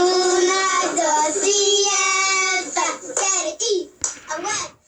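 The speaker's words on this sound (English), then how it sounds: "Uno Dociano is also a nod to another hand clapping game, and I can play a little clip of it right here." Children chant together in a sing-song rhythm during a hand clapping game, with hands slapping between the sung phrases in a recording played back.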